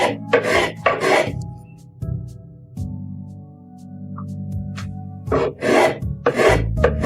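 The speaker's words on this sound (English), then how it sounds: "so I'm using the spoke to take off a lot of the wood" A spokeshave shaves wood to shape the tenon ends of a classic rocking chair, giving rough rasping strokes in bursts at the start and end, with steadier tonal hum between them.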